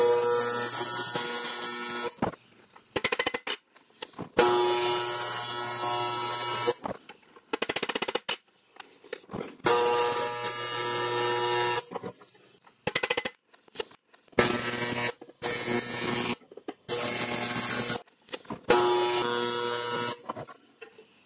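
Tack welding joins metal parts together in a shop, with repeated bursts of loud crackling and buzzing arc noise lasting a second or two each. The bursts are separated by short quiet pauses.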